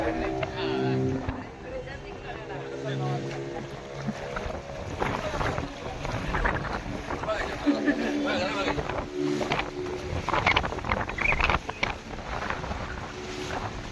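A motorboat at sea off Tarkarli beach in Malvan shifts into reverse gear, its engine droning continuously beneath steady wind noise and people talking.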